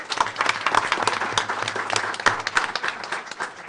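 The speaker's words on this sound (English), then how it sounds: "Give them another round of applause." Applause from the audience at a school board of education meeting, a steady patter of many hands clapping in a room, moderately loud throughout the short stretch.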